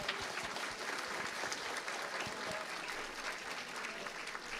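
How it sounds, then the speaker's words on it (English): Audience applause at a university inauguration ceremony for an Asian American and Asian Studies major, steady and sustained, heard from some distance at moderate loudness. "Let's give them one more round of applause."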